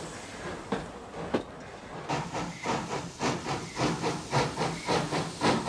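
An old steam train chuffs and hisses in a steady rhythmic beat, with rattling carriages and bursts of steam building in loudness as it passes nearby.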